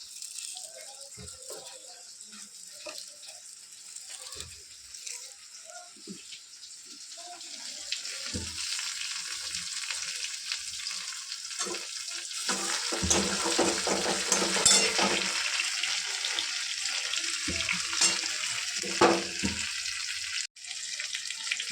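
Curry leaves fry in a hot pan with a steady sizzling crackle that grows louder midway, along with occasional utensil clatter and stirring.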